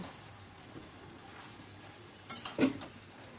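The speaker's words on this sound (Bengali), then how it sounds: "বেশ ভালো করে নাড়াচাড়া করে দিলাম" Ash gourd curry being stirred in a pot: a couple of quiet utensil scrapes and clinks near the end of an otherwise low, steady background.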